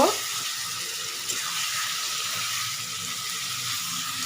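Chicken curry meat frying and being stirred in oil over a high gas flame, giving a steady, close hiss and sizzle that holds evenly throughout with no voices.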